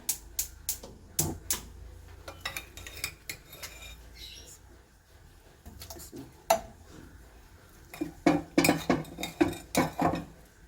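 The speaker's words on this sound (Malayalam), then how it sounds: "ഇതിലേക്ക് നമുക്ക് കല്ലുമ്മക്കായ ഇട്ട് കൊടുക്കാം." Mussels tipped into a kadai for frying clatter and scrape against the metal pan, with irregular sharp clinks and knocks scattered throughout and a denser cluster of rattling toward the end.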